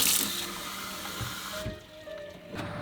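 Water runs from a kitchen faucet in a steady, fairly quiet stream, with small clinks and a faint tone shift partway through as the flow is caught.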